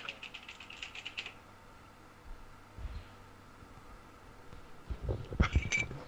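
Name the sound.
loud computer keyboard typing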